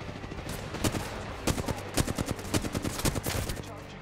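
Rapid bursts of shotgun fire in Apex Legends, close and loud, sharp blasts clustering into a fast rhythmic series in the second half over a steady game backdrop, with voices talking underneath.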